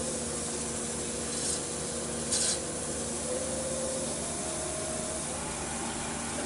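Abrasive polishing of a small yew hollow form spinning at slow speed on a wood lathe, a steady soft rubbing hiss with a faint motor hum beneath and a couple of brief scuffing bursts.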